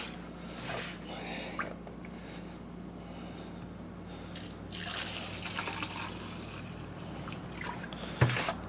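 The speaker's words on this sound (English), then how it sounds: "Alright, a little water, a little antifreeze for the kitchen sink trap." Water and antifreeze poured into a kitchen sink drain trap while winterizing a cottage: a faint, quiet trickle and gurgle running throughout, with a small splash near the end.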